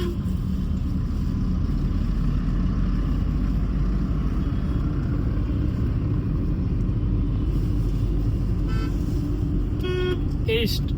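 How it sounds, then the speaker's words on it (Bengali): Original stock horn on a 2013 second-hand car gives a couple of short honks near the end, over a constant low engine and road rumble, with some talking. "যে হর্নটা আছে এই হর্নটাও স্টক হর্ন আছে তাহলে হর্নও চেঞ্জ হয়নি"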